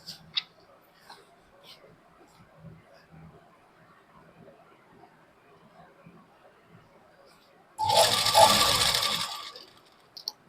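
A sewing machine stitching palazzo pants gives a loud, steady whirring burst of about two seconds near the end, after a stretch of quiet handling and faint rustling of fabric.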